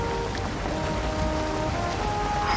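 Rain falls steadily over a swamp in the game Valheim, a dense, even patter of drops on surfaces with faint tonal game sounds underneath, no talking.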